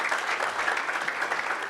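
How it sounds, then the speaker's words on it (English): An audience at a leadership program event claps in a dense, even burst of applause, loud and continuous without pause. "I'm still not happy with that applause."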